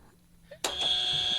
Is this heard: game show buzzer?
yes